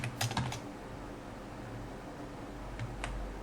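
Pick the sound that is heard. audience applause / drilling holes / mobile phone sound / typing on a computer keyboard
typing on a computer keyboard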